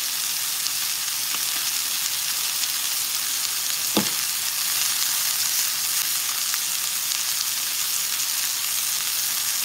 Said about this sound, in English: I'm going to drop a piece of butter.